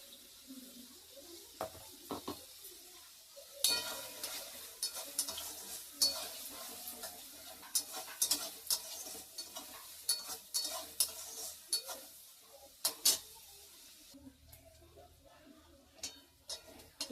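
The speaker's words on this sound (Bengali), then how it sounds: "পেঁয়াজটা ভাজা হয়ে গেছে এতটাই ভাজবো আর বেশি ভাজবো না" Onions sizzle and crackle in a pan while a spoon stirs and scrapes in uneven bursts, with a brief quieter stretch near the end.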